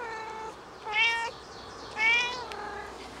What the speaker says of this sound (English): No matter how nice you are to him, he still does it. Cries all the time.